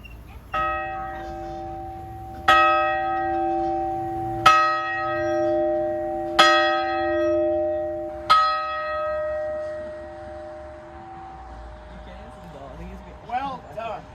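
A bell at a Quaker meeting house, formerly the bell of Milton Chapel Christ Church, strikes five times at regular intervals, each ring loud and slowly decaying, followed by people's voices as it fades.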